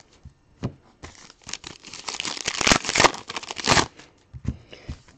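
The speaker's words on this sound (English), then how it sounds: "I can't type right now because I'm busy opening cards." Trading card packs being torn open and foil wrappers crinkled during a live pack-breaking stream, a close, dense run of ripping and crackling peaking mid-clip, with sparser rustles at the start and end.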